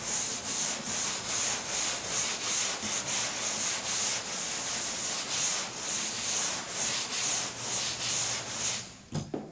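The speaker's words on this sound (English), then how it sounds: "I'm going to take 80 grit on my hand sander and go over this" A hand sander fitted with 80 grit sandpaper rubs over primer and body filler in a rapid, even back-and-forth rhythm, a close, loud, continuous scratchy rasp with no talking.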